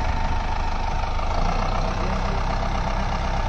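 A Deutz-Fahr Agrolux 80 HP tractor pulling a cultivator runs with a loud, steady diesel drone, close and unbroken, with no voices.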